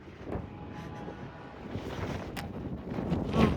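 Wind gusting at a construction site, rumbling and buffeting close against the microphone in uneven surges that swell louder toward the end, with no talk.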